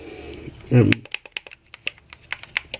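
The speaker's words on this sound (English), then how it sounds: "The buttons, as I'm sure you can hear, are very clicky." Buttons on a Moga Pro Android gaming controller give a quick run of sharp, close clicks at an uneven pace after a short thump from handling.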